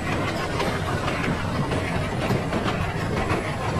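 A train running fast on rails in a video game gives a dense, steady rumble with rhythmic clickety-clack, loud and constant throughout with no break.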